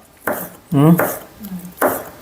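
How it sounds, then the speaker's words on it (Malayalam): A knife chops tomatoes on a board in a few separate close strikes, with a voice briefly talking between the cuts. "തക്കാളി അരിഞ്ഞിടാം"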